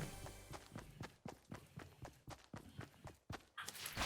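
Footsteps on a wooden floor in a video game, a steady run of sharp, close knocks about every quarter second, loud and alone with no talk.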